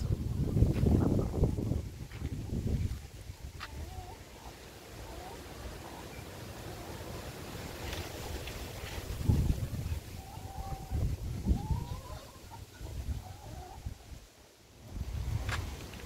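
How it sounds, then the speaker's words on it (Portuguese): Wind gusting outdoors across a rural yard with chicks and hens, a broad low rumble buffeting the microphone in strong bursts near the start, middle and end, with brief voice sounds in between. "Ó o vento!"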